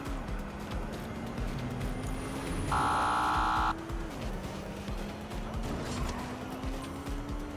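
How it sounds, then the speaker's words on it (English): In the video game Watch Dogs Legion, a car engine drones steadily with shifting pitch, joined midway by a loud, sustained tone lasting about a second before the engine carries on alone. "Ready to ram the vehicle."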